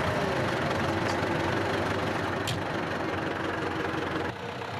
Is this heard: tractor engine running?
yes